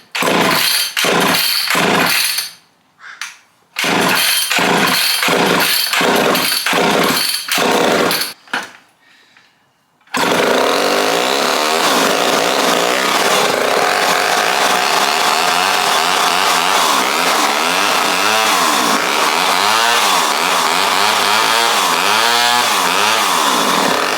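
A seized chainsaw, freed up without new parts and fitted with its bar and chain, is pull-started in a series of loud, evenly spaced rope yanks with pauses. It then fires and runs continuously, loud and close, its engine pitch rising and falling as it revs.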